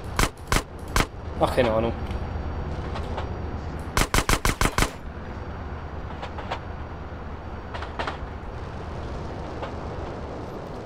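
Bursts of rapid enemy gunfire in GTA San Andreas, with several sharp automatic volleys near the start and a tight cluster around the middle, followed by scattered single shots over a steady background rumble, with brief talk in between.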